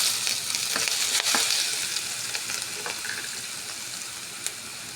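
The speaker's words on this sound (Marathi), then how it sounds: "आपलं एक चमच तेल गरम झालं आपण त्याच्यात आता मसाला टाकू" Spices hit a spoonful of hot oil for batata vada filling, giving a loud, steady frying sizzle with faint stirring clicks throughout and no voices.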